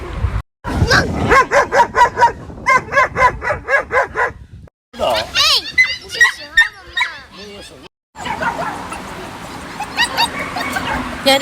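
A dog barks in a rapid series of loud, close yips and barks in a rural Chinese village, with short pauses between bursts and voices talking over parts of it.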